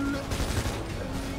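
A grenade blast in GTA 5 roleplay erupts as a dense, roaring broadband rumble that fills the whole moment, with voices talking over the chaos.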